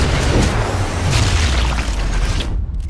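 Explosions in the video game Sniper Elite 4: heavy, rumbling booms roll one into another with deep low-end weight and crackling debris, then cut off abruptly near the end.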